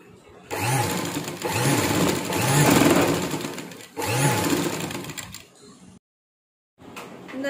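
A sewing machine stitches a blouse in steady whirring bursts with a rhythmic mechanical thump. It pauses briefly, then stops dead before a short restart, close and loud.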